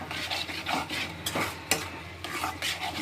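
A spoon stirs dried prawns and softened tomato curry in a pan, giving repeated scraping strokes over a soft, steady sizzle, close and without any talk.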